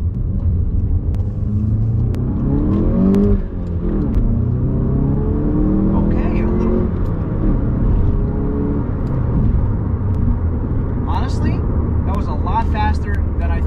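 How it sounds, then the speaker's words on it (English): A Volkswagen MK7 GTI revs hard through first gear, its engine rumble climbing steadily in pitch, dipping at a shift, then rising again, loud and close from inside the car, with some voices in the cabin. "we're gonna give it a good first gear rip, and I just want to see how the car does"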